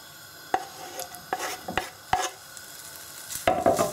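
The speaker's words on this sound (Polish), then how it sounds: "wlewamy dosłownie odrobinkę oleju, bo będziemy podsmażać boczek, a boczek przecież nam się wytopi" Bacon frying in a pan with a little oil gives a soft sizzle, broken by sharp clacks and scrapes of a utensil stirring it, louder sputtering toward the end.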